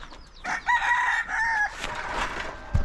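Chickens call close by, with a drawn-out crowing or squawking note followed by softer clucks and cheeps, set in a backyard coop where hens are raising young chicks.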